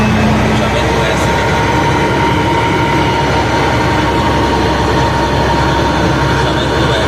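Volvo FH 460 truck idles loudly up close, a dense, steady low rumble with broadband mechanical noise that stays constant throughout, no clear separate hiss or brake release standing out.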